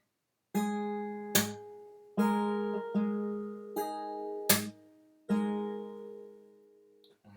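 Fingerstyle acoustic guitar playing a song intro: plucked chords ringing out in a slow rhythm, broken by sharp percussive slaps on the strings, close and clear with no talking.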